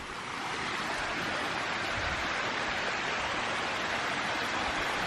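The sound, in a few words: waterfall on a rainy day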